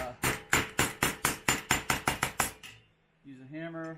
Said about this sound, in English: use a hammer to sharpen up the corners.